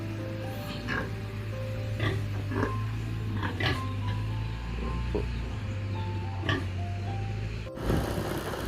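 Pigs oink and grunt in short, repeated bursts from a pen, moderately close, over a steady low mechanical hum, with no talking.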